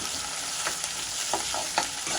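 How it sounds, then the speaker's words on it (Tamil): Steady sizzle of curry leaves frying in hot oil, with a few soft scraping stirs of a spatula against the pan; no voices. "அதோட வந்து கருவேப்பிலை போட்டுட்டு பிரட்டி."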